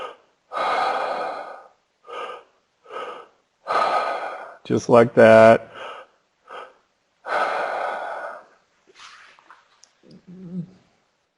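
A guided deep-breathing exercise: a series of audible inhales and exhales in an uneven rhythm, some sharp and gasping, some long and airy, close and clear, with brief spoken words.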